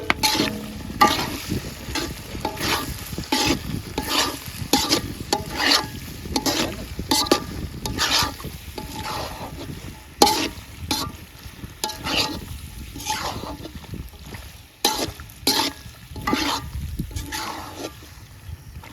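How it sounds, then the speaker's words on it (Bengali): Pasta is added and stirred through a white cheese sauce in a pan, giving repeated wet, sloppy scrapes and squelches with a faint sizzle underneath, close and steady throughout, no speech. "এখন আমরা পাস্তাটা দিয়ে দিব।"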